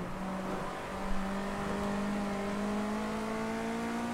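Race car engine in Project Cars 2, a sustained whining drone with rising pitch as it accelerates, steady and fairly close.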